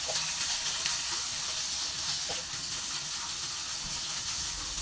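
Beef, onion and garlic sautéing in hot oil for lomi give off a loud, continuous hissing sizzle that fills the whole stretch, close up and with no talk.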